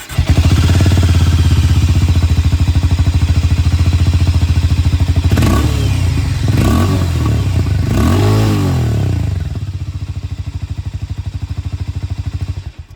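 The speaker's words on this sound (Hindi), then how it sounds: "यहाँ पर आप लोगों ने हार्ले डेविडसन X440T की आवाज़ सुन ली।" A Harley-Davidson X440T motorcycle's exhaust, loud and close, with a steady rumbling idle broken by a few sharp throttle blips in the middle before it settles back to idle.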